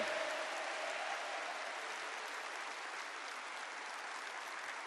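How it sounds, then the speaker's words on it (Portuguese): A large crowd at a Catholic gathering gives a big, sustained round of applause for Canção Nova, dense even clapping heard from somewhat far off that holds steady for the whole stretch. "eu queria que você desse uma salva de palmas bem grande à Canção Nova"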